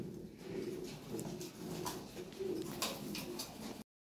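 A pair of large Roman pigeons coo steadily and close by, soft repeated throaty calls running on for about four seconds with no talk.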